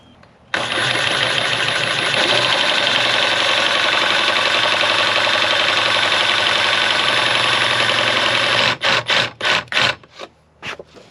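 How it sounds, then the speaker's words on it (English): A Sawzall reciprocating saw cuts a thick plastic door piece on a Can-Am Defender. It runs loud and continuous at close range for about eight seconds, then stops and restarts in several short bursts. No one talks. "this plastic piece is really thick, so I'm going to start by using a Sawzall and see what I can do to get through here"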